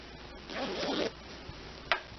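A concealed invisible zipper is drawn up on a sewing project in one smooth close zip of about half a second, followed by a faint tap and a short clicking pull, in a quiet room.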